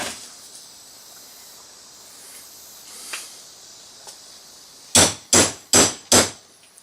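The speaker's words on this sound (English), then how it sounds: "I'm just going to punch them all." Four sharp hammer blows on a punch land in quick, even succession after a stretch of quiet hiss, each a loud, close crack on a wooden desktop pen organizer.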